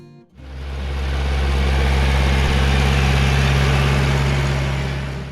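A John Deere 3020 farm tractor engine starts up and settles into a steady, loud idle with a deep, even rumble, heard close and alone without any talk.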